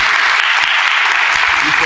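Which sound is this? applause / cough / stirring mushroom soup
applause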